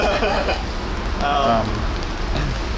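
Steady heavy rain hisses on surfaces throughout, with faint voices and a few brief bright sounds mixed into the downpour, on New Year's Eve in Cambridge.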